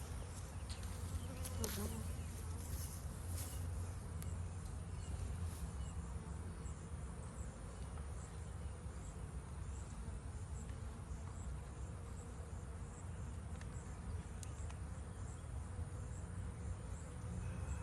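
Honeybees buzz steadily around a wooden hive on a hot day, a dense continuous drone close by that never lets up, with individual bees passing nearer now and then.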